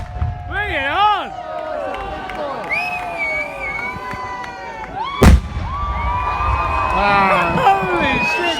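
A loud firework bursts once at a Christmas party amid a cheering, shouting crowd, with whistling rockets and excited voices around it.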